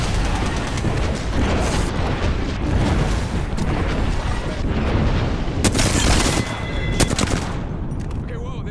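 Grenade explosion in Apex Legends amid heavy, dense gunfire and booming blasts, loud throughout, with one sharp bright burst late in the clip.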